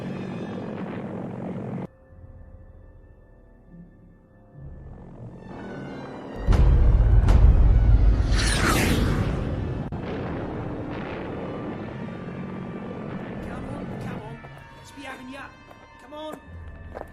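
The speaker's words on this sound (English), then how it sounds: "the V-1 Doodlebug" A V-1 Doodlebug flying bomb, the first cruise missile, passes overhead. Its engine drones at first, then swells into a loud, sustained roaring rush that slowly fades, with a voice heard over parts of it.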